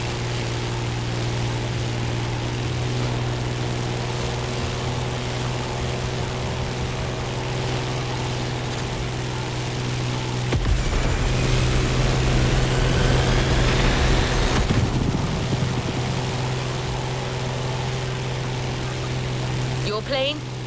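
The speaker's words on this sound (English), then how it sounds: "Your plane, the Civco Edge, will be ideal for that ride." A Civco Edge propeller plane in The Crew Motorfest drones steadily at close range, engine tone holding level throughout, with a louder rushing swell partway through.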